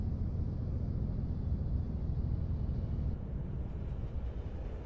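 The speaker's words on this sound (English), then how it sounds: "Here comes the train." A train rumbling past in the American Truck Simulator video game, a steady low roar that eases slightly toward the end, heard alone.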